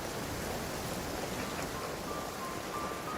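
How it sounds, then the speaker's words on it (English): Steady rain falls in Genshin Impact, a continuous even hiss of drops filling the scene at moderate level with no voices over it. "Don't stay out in the rain for too long."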